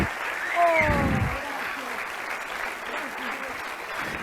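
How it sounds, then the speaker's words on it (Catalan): Audience clapping at a Pastorets theatre show, a steady wash of applause with a voice calling out briefly near the start, moderately close. "Un fort aplaudiment, ara sí,"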